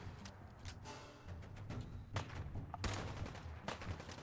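Rapid gunfire rattles in the video game Fallout 4, with repeated quick bursts of shots at moderate, fairly distant loudness and no speech.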